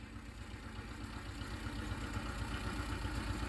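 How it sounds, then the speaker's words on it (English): A John Deere 70 two-cylinder diesel tractor runs steadily nearby during hay farming, a continuous low, throbbing engine rumble with no talking. "He's running the John Deere 2-cylinder 70 diesel."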